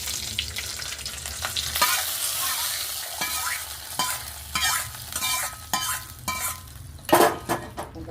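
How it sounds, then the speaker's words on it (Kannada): Curry leaves hit hot tempering oil in a pan for sambar, a loud close sizzle that spits and crackles while a spoon scrapes and clinks against the pan in repeated stirring strokes, with no voices. "ಈಗ ಇದಾಗಿದೆ ಕರಿಬೇವು. ಒಗ್ಗರಣೆಗೆ ಹಾಕ್ಕೊಂಡ್ಬಿಡೋಣ"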